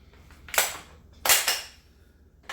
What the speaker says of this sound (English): If I want to take this barrel here and stick it on this rifle part here, it just goes right in.